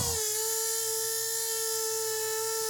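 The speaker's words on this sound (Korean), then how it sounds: "인조 나무 줄기에 어, 핸드 그라인더로 홈을 파는 과정인데요" A hand grinder carving a groove into an artificial tree trunk, giving a steady high-pitched whine that holds at one pitch throughout, close and continuous with no talk.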